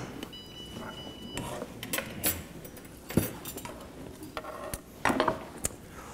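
Cutlery and dishes clinking and scraping at a dinner table during a meal of Bohemian forest sheep, with several sharp metallic taps and clatters over a low room background.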